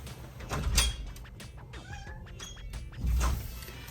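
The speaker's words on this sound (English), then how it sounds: "Sorry, my cat's going crazy." Pet cat going crazy indoors, meowing and yowling in short bursts near the microphone, interspersed with soft thuds and shuffling as it paws at a closed door.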